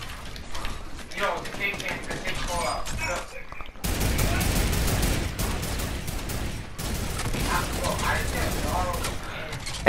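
Turret gunfire in Fortnite Battle Royale, sustained bursts of rapid automatic shots with mechanical clatter, loud and close, breaking off briefly and then resuming in long rattling volleys, with a voice talking over parts of it.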